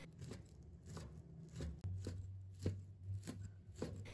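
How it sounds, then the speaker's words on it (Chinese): A knife dices food into small even cubes on a cutting board for glutinous rice shumai, quick chopping taps repeating in a steady rhythm, close and moderately quiet, with no talking. "最后改刀切成小丁块，尽量给它切均匀一点"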